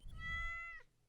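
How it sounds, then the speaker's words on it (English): A stray cat in the Stardew Valley video game gives a single short meow, clear and close over a soft low background. "See this cat here?"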